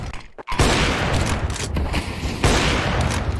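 Desert Eagle pistol fire in Counter-Strike 2: a brief dip into quiet, then loud, dense gunfire bursts with sharp cracks layered over a sustained roar, a second heavy burst landing near the end.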